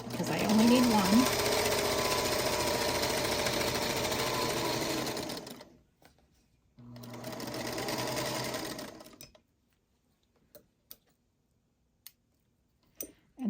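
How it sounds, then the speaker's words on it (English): A sewing machine stitching a fabric seam: a steady, fast mechanical whir for several seconds, a short pause, another run of stitching, then quiet with a few small clicks. "I'm just sewing down one side because I only need one"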